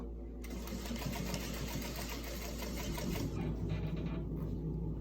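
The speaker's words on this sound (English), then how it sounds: "you just wanna probably try to top stitch over the same line you top stitched down before" A sewing machine top stitching a homemade fabric medical mask runs continuously with a rapid, even mechanical whir. It is close and steady, slowing slightly near the end.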